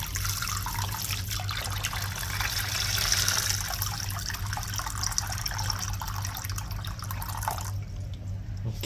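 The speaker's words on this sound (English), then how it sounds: "so after that I put the hot water." Hot water poured into a basin while working on a Toyota 2.8 1GD diesel engine with coolant loss, a steady close splashing and trickling stream running throughout, with a low hum underneath that cuts off near the end.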